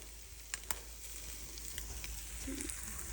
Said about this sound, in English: These are the eggs that we're cooking